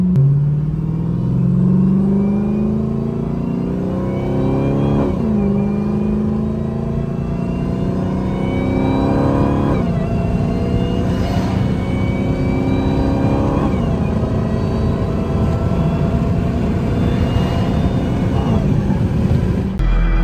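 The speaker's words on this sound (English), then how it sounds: "we about to test out our new air intake right now" A Hellcat-swapped car engine with a new aftermarket air intake revs up repeatedly, rising and falling in a loud, throaty roar. The engine keeps rumbling steadily between the revs and no one speaks.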